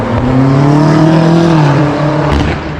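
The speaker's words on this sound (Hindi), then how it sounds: "गाड़ियाँ एकदम जूम करके लेकर जाते हैं भाई" A car zooms past at high speed on a street in Kyiv, Ukraine, its engine note rising then falling as it passes close and loud, with no talk over it.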